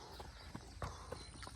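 Horse hooves clip-clop in a loose, uneven rhythm of soft thuds over a noisy outdoor background, fairly close but not loud.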